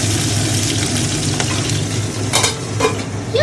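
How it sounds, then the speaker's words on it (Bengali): Salted, turmeric-coated tangra fish fry in hot oil, a loud continuous sizzle and crackle close by, with a few scraping stirs and utensil clinks partway through. "দাঁড়াও এবার একটা একটা করে ভেজে ফেলি।"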